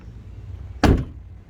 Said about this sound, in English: I cannot skip the door shut sound on this